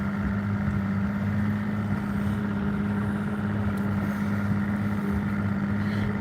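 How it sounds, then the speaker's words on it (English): An Evinrude outboard boat motor runs at a steady idle, a continuous close, loud low hum and drone that holds unchanged throughout, with faint wind noise on the microphone. "it's a nice purring motor"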